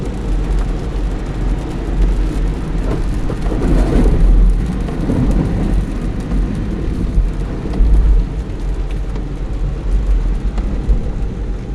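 Rain and rolling thunder outside a car on the Ganga Expressway between Meerut and Bareilly, a steady broadband wash with deep low rumbles that swell around the middle and near the end, heard from inside the vehicle with no talking.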